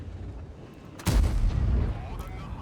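A tank cannon fires in World of Tanks, a single loud boom about a second in that leaves a rumbling tail fading over the rest of the moment.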